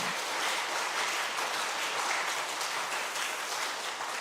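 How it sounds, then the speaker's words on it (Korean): A church congregation applauds together, a dense, steady wash of many hands clapping that holds evenly throughout, moderately loud and without voices. "우리 하나님께 영광의 박수 올리겠습니다"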